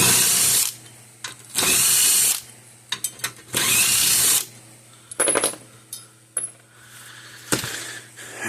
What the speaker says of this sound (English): Just spin them out the rest of the way.